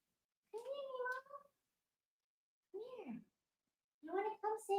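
A house cat meows three times, drawn-out, close-up cries separated by silence, with the final call broken into quick rising chirps.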